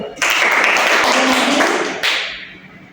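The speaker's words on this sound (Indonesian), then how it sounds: "Ya, tepuk tangan dulu." A classroom of students claps together during a microteaching math lesson, a dense burst of hand claps that starts abruptly, holds steady, then tapers off near the end.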